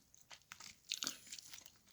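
Crunchy bite into freshly fried, sauced chicken, with a few sharp crisp crackles of batter and light chewing, close and fairly quiet.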